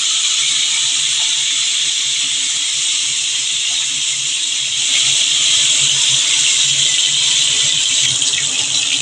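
Rohu fish pieces fry in oil in a steady, loud, close hiss that stays even throughout with no talking.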